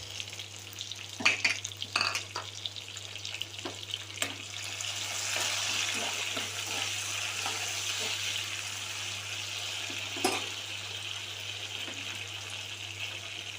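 Onions and tomatoes sautéing with curry leaves and salt in a pan for a Muslim-style katta kathirikai dish: a continuous close hiss of frying with scattered scrapes and clinks of stirring, plus a steady low hum underneath.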